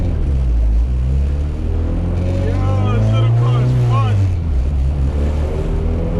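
A Honda Civic EG with a D16 engine drives along, its steady low engine drone swelling and easing as it runs, with a voice talking over it.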